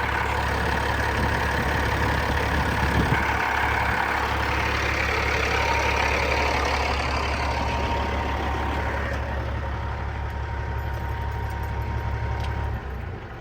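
A Peterbilt 379 truck engine idles close by, a deep steady diesel rumble with a constant low throb and even mechanical clatter that holds unchanged for the whole stretch, no talk.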